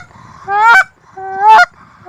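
Canada geese honk loudly and close, two drawn-out nasal calls in sequence with a short, fainter call trailing after.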